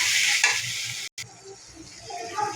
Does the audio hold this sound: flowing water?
no